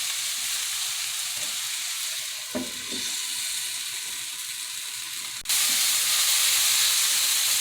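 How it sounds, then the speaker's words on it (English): Onions and mushrooms sizzling in a hot pan for a traditional Saffa breakfast, a steady close frying hiss that swells louder near the end, with a few faint stirring scrapes. "Make sure you often stir the pan because we want the onions and the mushrooms to"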